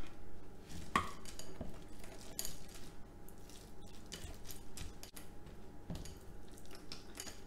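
Chocolate chips are gently stirred into banana bread cookie dough in a bowl, making soft, close squelches and scrapes with light clicks of a utensil against the bowl, and no one speaks.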